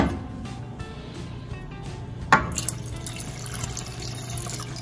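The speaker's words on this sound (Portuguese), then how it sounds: "Agora eu vou acrescentar aqueles 3 dedos a mais de água que nós colocamos" Water is poured into a pot of pea soup, a steady low pour with a sharper splash partway through as more liquid goes in, close and moderately loud with no talking.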